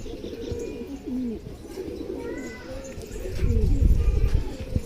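Teddy pigeons cooing close by, soft repeated throaty coos with a few faint chirps, and a low thump and rustle of movement toward the end.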